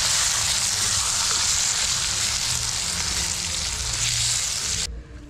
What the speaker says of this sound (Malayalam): നമുക്ക് അതും കൂടി ഇട്ട് കൊടുക്കാം. ഇനി നന്നായിട്ടൊന്ന് വഴറ്റിയെടുക്കും.